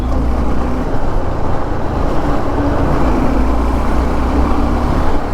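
A Suzuki V-Strom SX 250 motorcycle runs at low speed in fourth gear. It makes a steady, dense engine drone mixed with heavy wind rumble, with no breaks throughout.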